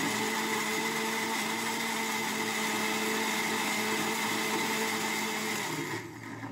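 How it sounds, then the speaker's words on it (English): Kitchen blender grinding ginger and garlic, a loud steady motorized whir with a constant pitch that runs for several seconds, then cuts off abruptly near the end. "Blender."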